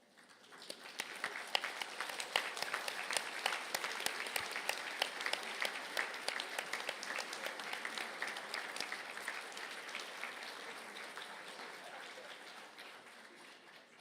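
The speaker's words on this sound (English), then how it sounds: "give them, please, a round of applause" Graduates at a university conferring ceremony in Galway turn to applaud their supporters, a large hall of clapping that swells in quickly, holds strong for several seconds, then gradually fades.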